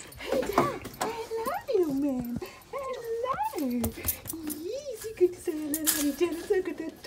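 A retired guide dog whimpers and lets out high, wavering yips and whines, close by, while a person speaks warmly to it almost throughout.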